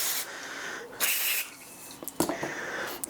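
Carburettor cleaner sprayed onto the carb of a Kawasaki mower, heard as several sharp hissing blasts separated by short pauses, close and fairly loud, followed by light clicks and handling noises.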